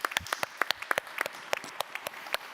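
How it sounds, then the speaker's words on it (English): A conference audience at a sustainability event applauds, a thin scattering of distinct claps from a smallish crowd in a steady patter, fairly faint and without voices. "Very big round of applause to everyone."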